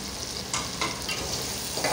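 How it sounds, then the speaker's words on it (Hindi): Tomatoes and spices frying with ginger and garlic for chana pulao, a steady close sizzle with a few stirring scrapes over it and no voices. "अदरक लहसुन जो हमने डाला था वो भून चुका है, तो अब हम अपने टमाटर शामिल करते हैं"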